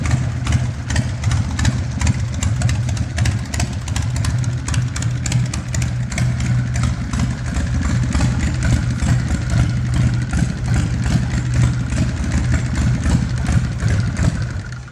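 A 2000 Ultra Groundpounder motorcycle with custom work idles steadily and loudly up close, its engine giving a continuous rapid, even pulsing for the whole stretch without revving or talk.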